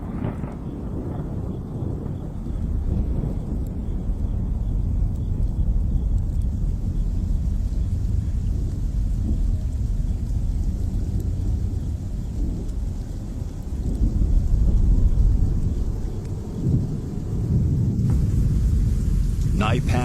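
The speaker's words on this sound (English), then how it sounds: "Storm clouds gather once again." A desert thunderstorm rolls in with deep, sustained thunder rumbling and rain hissing steadily, swelling louder for a stretch midway before easing, heavy and enveloping throughout.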